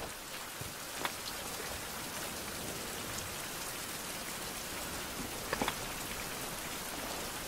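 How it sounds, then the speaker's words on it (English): Steady, dense rain falls without pause in a survival video game, a constant hiss with a few brief drop ticks and no voices. "with it raining again"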